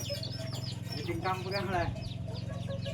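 Chickens and chicks cluck and peep near a rural home, with several calls heard close by while people talk over a steady low background hum.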